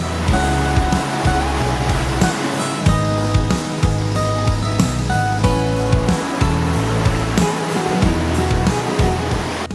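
The Panniyar river running full during a harsh dry summer, releasing a steady, loud broadband rush of flowing water that continues throughout without any voices.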